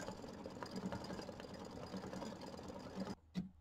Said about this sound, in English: But these do take a little bit to stitch out. So I'll get this one started